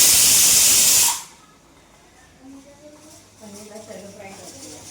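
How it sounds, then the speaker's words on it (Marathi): Paneer shallow frying in a pan, a loud close hiss and sizzle that cuts off after about a second, followed by quieter kitchen sounds with people talking. "फ्राय म्हणजे शेलो फ्राय करते पनीरला."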